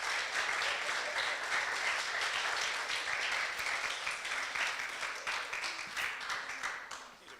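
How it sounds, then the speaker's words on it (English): An audience applauds steadily for a guest coming forward, dense sustained clapping filling the room before it begins to fade, with a few voices underneath. "let's have a great big round of applause for Melvin as he comes forward."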